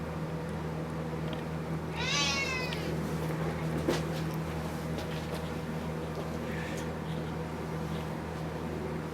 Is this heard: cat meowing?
yes